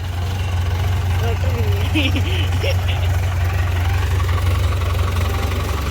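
A tractor's steady low engine rumble idles throughout at a Sikh Nagar Kirtan procession, with faint voices and chatter in the background.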